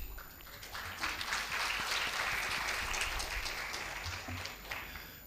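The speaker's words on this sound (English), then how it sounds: "Please once again give him a big applause." Sustained applause from a lecture audience greeting the Ukrainian ambassador to Indonesia at a university public lecture, a dense steady wash of many hands clapping throughout, fairly loud and uninterrupted.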